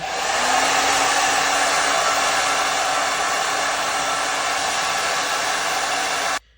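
A hair dryer blows continuously on a wig during a lace wig install, a loud, close, steady whirring roar that runs unbroken for about six seconds and then cuts off abruptly, with no voices.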